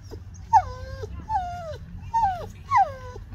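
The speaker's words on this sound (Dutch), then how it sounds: "Er komt een heel klein lief hondje aan." A very small dog whimpers four times in a row, each a thin, high, falling whine with a short pause between, close by over a low, quiet background hum.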